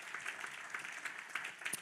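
An audience claps for a round of applause at a book club conversation event, a faint, distant patter of hands that carries on evenly with no voices over it.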